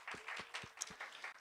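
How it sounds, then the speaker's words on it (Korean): Applause for graduates at a church young-adult service, a short burst of scattered claps from a modest crowd, fairly faint and irregular. "우리 다시 한번 우리 졸업자분들께 박수 한번 보냅시다."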